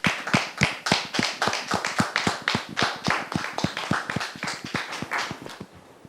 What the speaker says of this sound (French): Merci de les recevoir avec vos applaudissements.